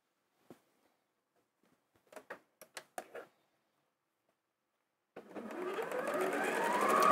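A few soft clicks and handling taps of fabric and pins, then a sewing machine starts stitching a quilt block, its motor whirring faster and louder toward the end.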